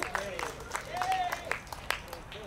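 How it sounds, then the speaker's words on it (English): A small audience claps for two new inductees at a freethought event: light, scattered applause of moderate loudness with a voice speaking over it. "Round of applause for our two new inductees."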